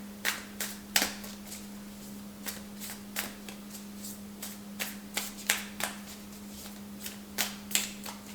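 Tarot cards are shuffled and drawn at a reading table: a run of crisp, close riffling snaps and slaps in an irregular rhythm, with a steady low hum underneath and no talking.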